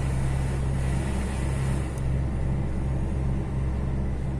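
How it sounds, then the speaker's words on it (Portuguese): A truck drives along a flat highway in Uruguay, Route 3, giving a steady, continuous low engine and road rumble throughout, with no talking. "O caminhãozinho está se comportando aqui no Uruguai, é muito bom."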